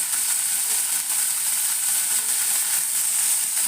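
Spring onion greens frying in a pan, a steady, loud, continuous sizzle throughout with no talking.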